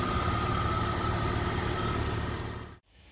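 A 2001 Jeep Cherokee XJ with a freshly swapped 4.0 engine idles smoothly and steadily at close range with no knocking, then cuts off abruptly near the end.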